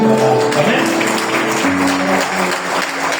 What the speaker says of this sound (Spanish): Den un aplauso al Señor y a su palabra